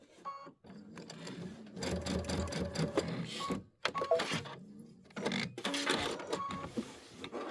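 A sewing machine stitches a quilted Christmas project in repeated runs of rapid mechanical stitching, stopping and starting between short pauses, heard close and fairly clear.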